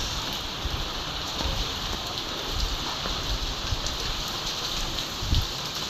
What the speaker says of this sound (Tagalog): malakas ang ulan, kabugso-bugso, ganun din yung hangin